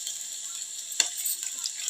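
Garlic frying in a pan, giving a steady, fairly quiet sizzle with a single sharp tick or stir sound partway through, and no voices.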